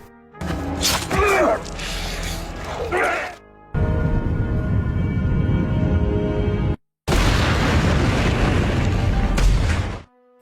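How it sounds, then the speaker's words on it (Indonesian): Heavy rumbling blasts and crashing debris roar through the clip in long, loud bursts, separated by brief silences, as a helicopter explodes in the film Skin Trade. "Akhirnya Dragovic tewas dan meledak bersama helikopter di tempat itu."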